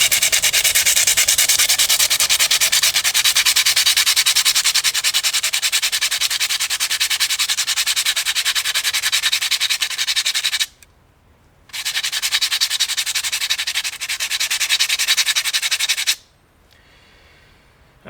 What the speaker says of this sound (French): il faut frotter un petit peu au papier de verre